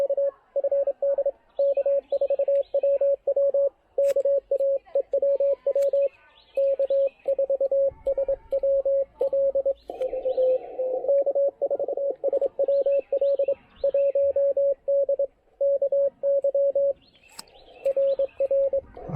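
Amateur radio Morse code signal received on the 40-meter band at a portable QRP field day station: a strong, steady tone keyed in rapid dits and dahs, continuous throughout with faint background hiss.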